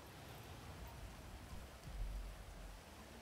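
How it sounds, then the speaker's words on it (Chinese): Steady rain in the video game GTA 5, a continuous broadband hiss of falling drops with a slight swell toward the middle, no voices present. "下雨， 赶快躲雨。"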